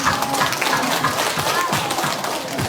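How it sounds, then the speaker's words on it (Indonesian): Audience applause at a positive-discipline school training session, a dense wash of clapping hands that stays loud and steady throughout. "kita berikan aplaus untuk kita semua"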